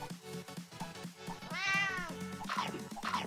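A cartoonish cat meows several times in cat mode of the mobile game Rainbow Puke. The meows sit over light, bouncy game music and effects, with one long rising-and-falling meow in the middle and shorter ones near the end.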